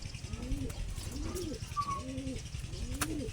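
Young pigeons in a loft cooing softly, four low rolling coos in a steady rhythm against a quiet background hum, with one faint high chirp.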